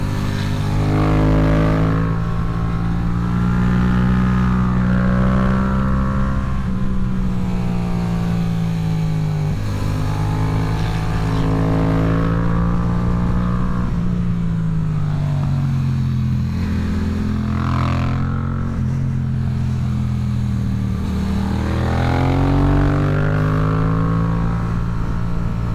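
A Suzuki SV650 motorcycle roars steadily while being ridden, its engine note rising and falling with revs in a continuous loud drone, with no voices over it.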